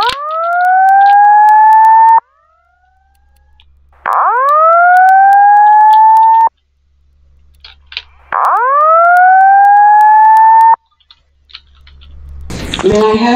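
A fire alarm system in the Roblox video game sounds loudly in three long rising-then-steady whooping tones, each lasting about two seconds with short pauses and faint clicks between, ending with a burst of noise.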